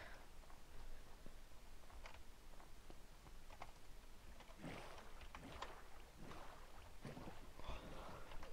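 Rowing a boat in Minecraft, a steady watery paddling and splashing texture with light ticks, moderately quiet with no talk.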